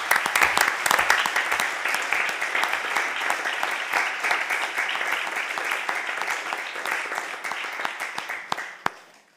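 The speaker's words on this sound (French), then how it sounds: "j'aimerais qu'on applaudisse tous ensemble une dernière fois toutes les institutions qui ont reçu le label cette année." An audience applauds the institutions that received a label this year at a ceremony, with sustained, dense clapping at steady volume throughout, tapering slightly toward the end.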